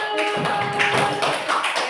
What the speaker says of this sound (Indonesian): Tepuk tangan buat kelompok anggur.